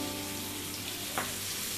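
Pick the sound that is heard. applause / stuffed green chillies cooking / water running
stuffed green chillies cooking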